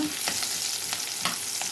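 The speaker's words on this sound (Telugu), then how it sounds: "పచ్చిమిర్చి ఉల్లిపాయలు నూనెలో వేయిస్తున్నాను" Green chillies and onions sizzle in hot oil, a steady crackling fry punctuated by a few stirring scrapes, no voices.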